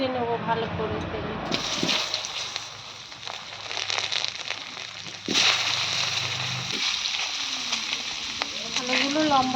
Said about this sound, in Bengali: আলুগুলো ভেজে নেব ভালো করে তেলে।